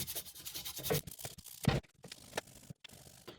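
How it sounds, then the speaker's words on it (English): Sandpaper rubbed by two fingers across the frets of a 60th Anniversary Fender Telecaster to buff off oxidation, making close, uneven scratchy strokes in short bursts with brief pauses, and no talking. "Here I'm just using the 2 fingers on the sandpaper and hitting 2 frets at a time."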